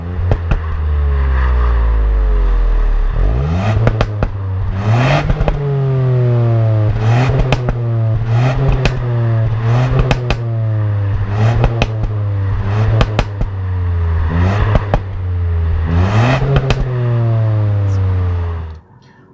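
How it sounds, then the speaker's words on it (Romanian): Ford Puma ST engine revving repeatedly with an open exhaust, rising and falling rev sweeps punctuated by sharp crackling pops and bangs on each lift-off, loud and close, no speech. "Se aud niște pops and bangs în evacuare."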